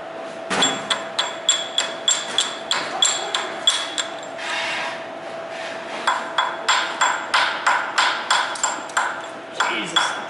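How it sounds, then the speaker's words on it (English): A small ball peen hammer strikes a chisel in a steady run of sharp metallic taps. The taps come in two bursts of about a dozen blows each, close and loud, with a ringing tone and a short pause between the bursts. "I need a chisel and a small ball peen."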